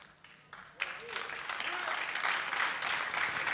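A church congregation breaks into applause after a short lull, swelling quickly and holding as a steady, moderately distant clatter of many hands, with a voice briefly audible near the start.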